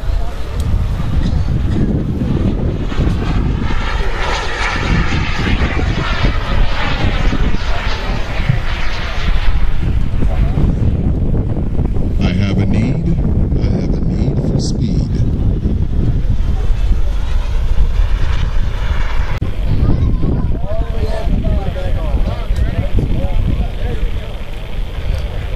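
A model turbine jet airplane roars loudly and steadily as it flies, with wind buffeting the microphone and a voice speaking over the engine.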